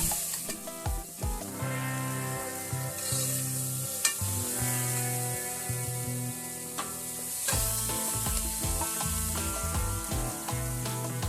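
Turmeric powder stirred into a pan of sizzling sambar masala, a steady close frying hiss with scraping stir strokes throughout, no voices.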